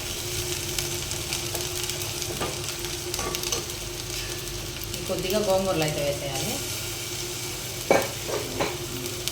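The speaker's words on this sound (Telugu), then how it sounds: "సిమ్లో పెట్టుకొని బాగా ఫ్రై చేయాలి" A curry with gongura leaves and coconut frying on a low flame while being stirred in a pan, giving a steady sizzle broken by scraping and clinking, with a voice talking over it.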